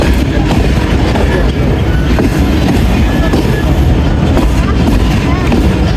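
A 101 Up railcar train pulls into Wazirabad Junction with steady loud rumble and rhythmic clatter of wheels on track, a continuous dense rolling noise close by, with some voices mixed in.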